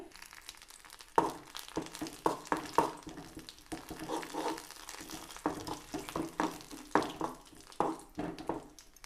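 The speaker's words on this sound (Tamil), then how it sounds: "எடுத்து வச்சுருக்கிற இந்த இலை இதையும் போட்டு நம்ம இப்போ வதக்கி எடுப்போம்" Leaves sautéing in castor oil in a pan, giving a soft, steady sizzle broken by irregular scraping and stirring strokes that come up close and fairly loud at intervals.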